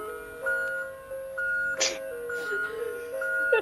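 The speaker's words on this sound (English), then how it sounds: "Send back the ice cream truck." An ice cream truck plays a jingle of sustained, steady electronic tones that shift in pitch, with a brief noisy burst midway through.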